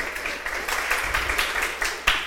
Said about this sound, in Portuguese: palmas para esse grupo